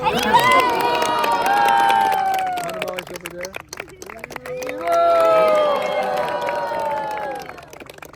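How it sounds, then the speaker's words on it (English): An audience at an evening gathering in Niechorze bursts into loud cheering, whoops and applause in two swelling waves, with a brief spoken phrase near the middle. "But let's give them both a big round of applause."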